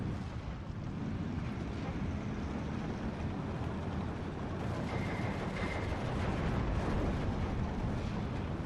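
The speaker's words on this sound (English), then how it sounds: "That's some heavy artillery." Heavy artillery fire in the WWII strategy game Steel Division 2: a dense, continuous low rumble of distant shelling and explosions, steady and unbroken throughout with no talk.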